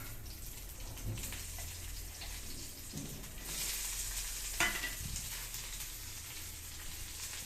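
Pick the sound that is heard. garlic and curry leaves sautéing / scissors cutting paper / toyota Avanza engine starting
garlic and curry leaves sautéing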